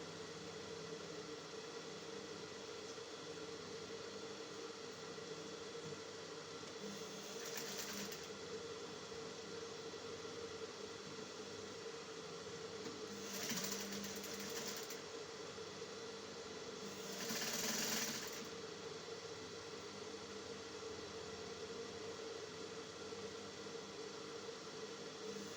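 A sewing machine hums steadily while sewing a mermaid dress with a crinoline hem, with a few short, slightly louder bursts standing out over the constant whirring.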